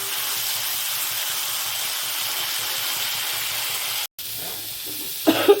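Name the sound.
bitter gourd frying in oil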